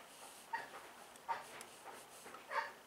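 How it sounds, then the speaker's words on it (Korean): A dog outdoors on a windy day gives faint, short whimpers and yips at intervals, distant and quiet over soft wind noise. "강아지 소리가"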